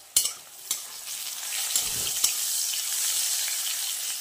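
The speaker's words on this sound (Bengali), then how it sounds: "এদিকে বসিয়ে দিয়েছি হচ্ছে উচ্ছে ভাজা।" Sliced bitter gourd fries in a pan with a steady, bright sizzle. A few sharp stirring clicks and scrapes come near the start, then the frying continues evenly.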